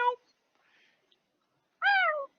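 A voice imitates a cat's meow twice, a short one at the start and a longer, drawn-out one near the end, with faint murmuring between.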